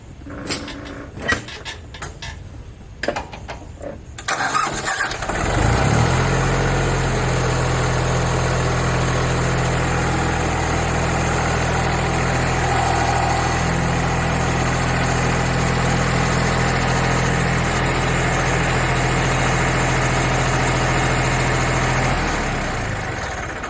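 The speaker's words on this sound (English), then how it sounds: "now I'll back the tractor up" A few knocks and clatters, then a heavy tractor engine starts and settles into a steady, loud, low idle that runs unchanged until near the end, on a tractor fitted with a post hole digger.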